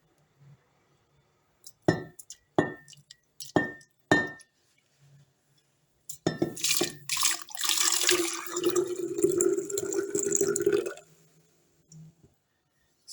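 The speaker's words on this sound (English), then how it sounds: "I'll be pouring it into my jar." Homemade fruit juice is poured into a glass jar: several sharp glass clinks first, then a sustained gurgling, splashing pour lasting several seconds, close and fairly loud, ending with a brief quiet tail.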